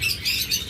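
Short high chirps from a lutino Fischer's lovebird, a cluster of bright bird calls over a low steady background, loud and close, with no voices.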